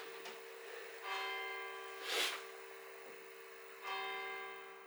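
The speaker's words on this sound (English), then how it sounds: "the church starts ringing" A church bell tolls in slow, spaced strikes, each ringing out with a long shimmering decay, distant and fairly faint against a quiet background.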